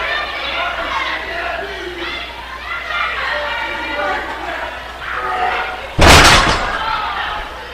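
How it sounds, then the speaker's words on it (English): A heavy thud at a wrestling event as a wrestler's back slams hard into the ring canvas, one loud impact cutting through a continuous roaring arena crowd. "back slammed hard into the canvas"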